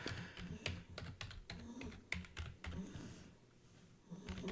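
Rapid keystrokes on a computer keyboard as a new password is entered, a close, steady run of clicks in irregular bursts with a brief pause near the end.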